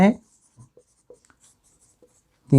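Chalk or marker taps and scratches faintly on a board as a trigonometry problem is written out, sparse short strokes in a quiet gap between stretches of a man's speech.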